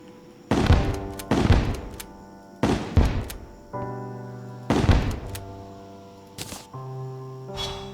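Onyx Blaster gun from Terraria Calamity firing in six or seven loud, separate bursts with ringing tonal tails, spaced roughly a second apart, with no talking.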